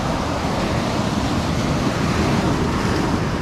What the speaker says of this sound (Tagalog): malakas ang alon mga master